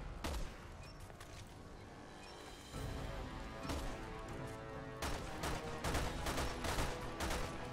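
Gunfire rattles in Resident Evil 6, repeated sharp shots in irregular bursts, some clustered into rapid volleys, loud and close.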